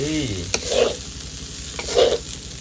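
Steady sizzling of shrimp frying in a pan, with a couple of scraping stirs and faint background noise.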